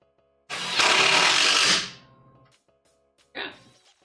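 Power driver sinking a screw into a wooden miter saw station, one loud close whir lasting over a second that winds down, then a shorter second burst.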